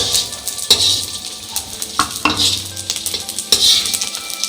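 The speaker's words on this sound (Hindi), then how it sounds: "ये बड़े अच्छे से फ्राई हो रही हैं।" Edible gum (gond) frying in oil in a pan for panjeeri, a steady close sizzle with bursts of stirring and a few spoon scrapes against the metal, no voices.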